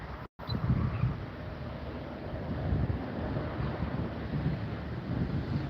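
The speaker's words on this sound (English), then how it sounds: "Oh, the wind died down a little." Steady wind buffets an outdoor microphone near a fast-growing wildfire, a continuous low roar that swells and eases without ever stopping.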